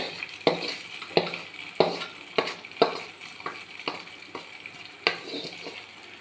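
A spoon stirs tempering into paalkappa in a pan, scraping in about ten distinct strokes at a steady rhythm over a soft, continuous sizzle, close and moderately loud.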